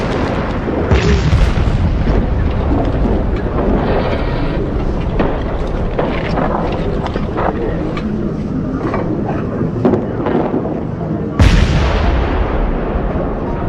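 First World War artillery bombardment, French guns firing: a dense, continuous roar of booms and rumbling blasts, loud and unbroken, with a sharp heavier explosion near the end.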